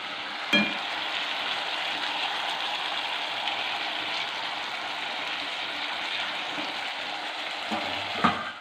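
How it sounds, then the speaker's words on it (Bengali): Potatoes fry in a pan with a steady, close sizzle, broken by a couple of brief utensil clinks near the start and end. "আর এই যে আলু ভাজা বসিয়ে দিয়েছি"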